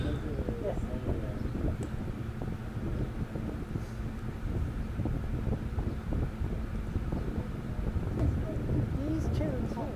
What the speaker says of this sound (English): Unbelievably windy, and it was a hot wind.